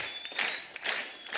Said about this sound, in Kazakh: Қол шапалақ қошаметтер.